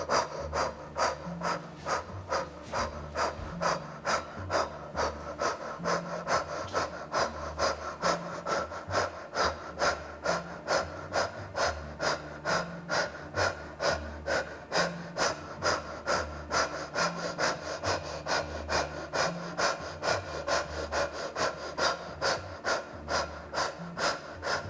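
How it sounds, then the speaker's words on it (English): Kundalini yoga breath of fire through a rounded mouth: rapid, rhythmic, forceful breaths pulsing steadily and evenly, close and loud, with no talking. "And breath of fire through the rounded mouth."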